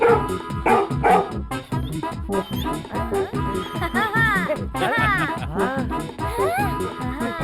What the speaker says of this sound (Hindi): अरे ये कुत्ता